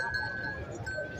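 Goats and other livestock at a busy animal market in Karachi, with a faint bleat rising over a dense murmur of crowd noise and background voices.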